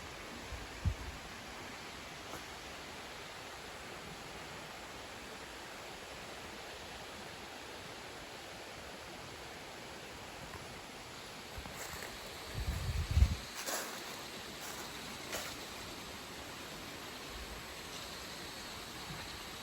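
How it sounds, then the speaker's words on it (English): Steady broadband wash of a flowing creek with light wind outdoors beside an old Appalachian house, continuous and even, with a brief louder rustle or gust near the end. "enjoy the sounds of the flowing creek, the wind, and the occasional peal of thunder"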